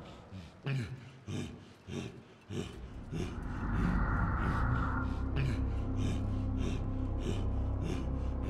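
Heavy, ragged breathing from a character in the horror video game The Beast Inside, with sharp gasps in the first few seconds, then a steady loud rumbling ambience beneath continued breaths.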